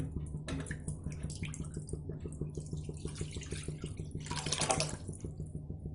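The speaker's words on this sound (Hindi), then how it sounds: "यहाँ पे इसमें हम थोड़ा सा पानी डाल देते हैं पहले" Water is poured into a kadhai on a gas stove while making mango basundi, a soft splashing trickle over a steady low burner hum, swelling briefly near the end.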